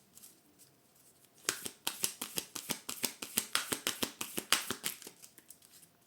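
A deck of oracle cards is cut and riffled up close, a rapid run of sharp crisp card flicks lasting a few seconds before stopping, with no talking.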